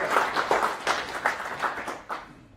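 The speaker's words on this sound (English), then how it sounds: "round of applause." Thin, scattered applause from a small audience, a few hands clapping steadily for a couple of seconds.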